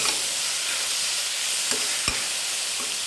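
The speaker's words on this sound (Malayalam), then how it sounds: "ആ സമയത്ത് സവാള ഇട്ട് കൊടുക്കുന്നുണ്ട്" Onion, ginger and garlic sauté in a pan for a vegetable biryani, a constant close sizzle with a couple of soft stirring knocks.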